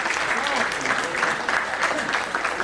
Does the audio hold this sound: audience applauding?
yes